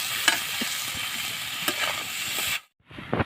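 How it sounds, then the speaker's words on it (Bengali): Boiled peas stir-fried with onion, green chilli and salt in a wok give a steady close sizzle broken by sharp scraping stir strokes, then a brief hush before stirring resumes. "এর ভিতরে আমি মটর দিয়ে দিচ্ছি, সিদ্ধ মটর।"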